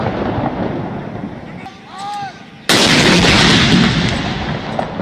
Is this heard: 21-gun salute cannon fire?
yes